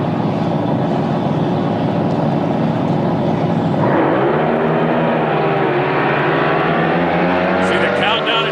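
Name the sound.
top alcohol drag boat engines racing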